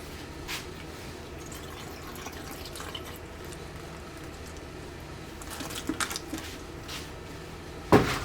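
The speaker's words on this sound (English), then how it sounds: "You add a little water to that" Faint trickling and dripping water at close range as water is poured onto a potted vegetable seedling, over a low background hum, with a few louder splashes and a knock near the end.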